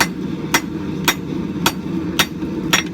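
A hammer flattens a thick steel billet on an anvil while forging a camp knife, five sharp ringing blows evenly spaced about half a second apart, close and loud over a low workshop hum.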